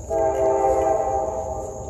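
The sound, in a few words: train passing with horn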